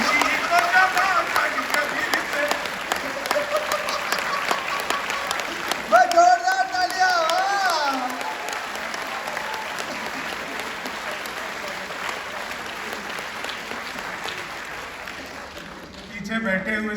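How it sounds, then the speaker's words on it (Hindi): An audience at a Hindi poetry gathering of the Indian Air Force claps in sustained, dense applause that swells briefly, then slowly fades, with voices talking over it. "पीछे बैठे हुए सीनियर सिटीजन भी इस बात पे ताली बजा रहे हैं।"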